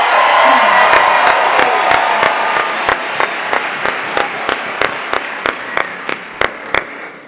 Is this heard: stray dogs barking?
no